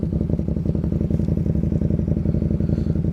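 A KTM 1290 Super Duke fitted with an Austin Racing exhaust runs inside a tunnel, its loud, deep, lumpy twin-cylinder burble pulsing in a fast, even rhythm and echoing close by, with no talking.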